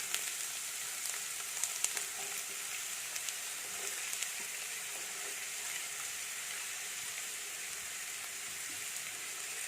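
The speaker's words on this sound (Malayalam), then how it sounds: "നല്ലപോലെ ചൂടായി, നമുക്കിനി സവാള ഇട്ട് കൊടുക്കാം." Finely chopped onion sizzling in hot oil in a pan for a dhaba-style chicken curry, a steady faint hiss and crackle with a few small pops, no talking.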